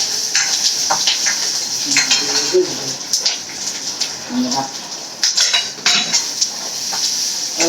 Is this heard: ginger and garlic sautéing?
yes